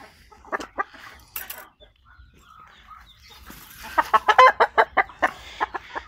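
Chickens clucking close by, a flurry of short, sharp squawks and clucks in irregular bursts that build to a dense, agitated cluster near the end.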